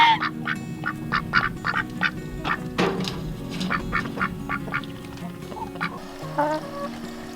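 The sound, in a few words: ducks quacking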